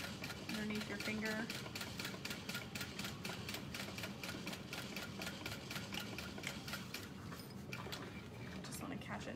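A sewing machine stitches along the piping of an Annette satchel in a fast, even mechanical chatter of rapid needle strokes, close and continuous throughout.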